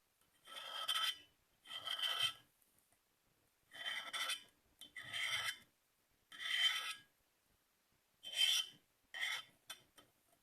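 Repeated rasping strokes along the rim of an epoxy-coated cup, about seven distinct scrubbing bursts separated by short pauses, close and fairly quiet with no talk.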